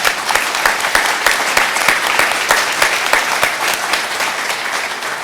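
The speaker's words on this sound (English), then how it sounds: "So huge round of applause" Sustained round of applause from an audience at a Q&A event with a Maine Grains miller, dense steady clapping that holds evenly throughout without voices standing out.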